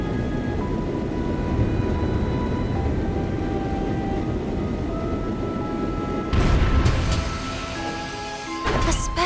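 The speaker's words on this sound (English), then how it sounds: "A special ops frigate!" A special ops frigate airship in Trails in the Sky flies with a steady low droning rumble, loud and continuous, and a few sharp knocks and clanks near the end.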